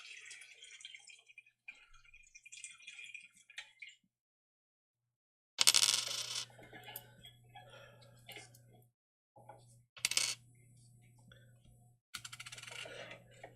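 Coins handled during a coin roll hunt: scattered clinks and a few bright metallic bursts of coins being poured or dropped, with quiet gaps and faint background sounds in between.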